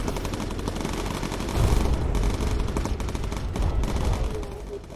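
Sustained machine gun fire at enemy fighters in the video game Bomber Crew, a dense continuous rattle of rapid bursts filling the whole stretch, loud and unbroken with slight swells in intensity.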